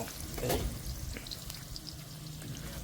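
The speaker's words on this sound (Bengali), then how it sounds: "রান্না করার জন্য প্রথমে আলু ভাজা হচ্ছে" Potatoes frying in a pan on a rooftop for a spiced meat curry meal, a faint steady sizzle with a brief louder stir near the start, quiet and close.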